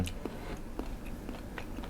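Chewing a crunchy buffalo-skin snack, close and quiet, with a few slow rhythmic bites spaced about half a second apart.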